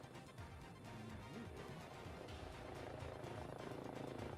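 A helicopter in the video game Fashion Police Squad gives a quiet, steady rotor drone with a rhythmic thumping pulse that continues throughout.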